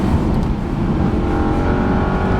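A 2021 Bentley Flying Spur V8, a 2.3-ton luxury saloon, accelerates hard in gear on very wet roads, with a loud, steady engine roar that holds throughout without a break.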